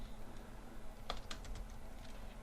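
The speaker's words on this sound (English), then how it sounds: "So as I begin typing" Quiet typing on a computer keyboard: a few light, scattered key clicks with a short quick burst in the middle, heard over a low steady room hum with no talking.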